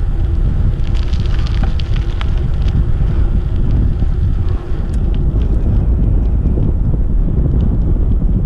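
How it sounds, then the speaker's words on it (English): Wind buffets the microphone in a loud, constant low rumble during a bike ride through Estell Manor, with faint crackles and ticks scattered on top. "A bit of a breeze, not much, just a breeze, not actual wind"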